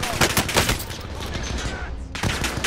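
Rapid bursts of gunfire in an online shooter game crackle loudly and close, with a quick string of shots, a brief lull, then another burst, while a player talks over it.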